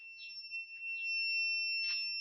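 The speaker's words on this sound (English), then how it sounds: "This beeping sound means that you have gotten the signal." A satellite finder sounds a steady high-pitched electronic tone continuously on signal lock, with softer chirps and beeps layered over it, fairly faint and close.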